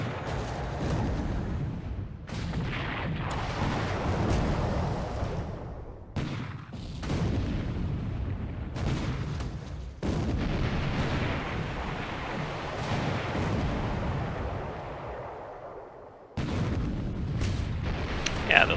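Naval gunfire from a battlecruiser and two cruisers in a video game battle, with heavy booming salvos and rumbling blasts rolling almost continuously, loud, with sharp cut-offs between bursts and no talk.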